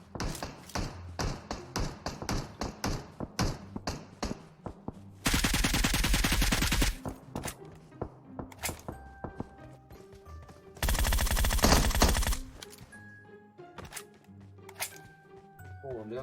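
Gunfire rattles through a PUBG Mobile match, with rapid single shots and two long, dense automatic bursts, close and loud, as someone talks excitedly between volleys.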